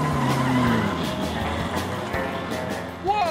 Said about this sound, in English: David Pogue faces off against John Whelen in a 1972 Datsun.